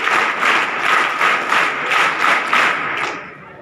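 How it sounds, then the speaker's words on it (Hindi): Audience at a school Constitution Day function in Hindaun City claps in loud, pulsing waves that swell roughly every half second, then thin out and fade near the end. "बड़ी ताली करो।"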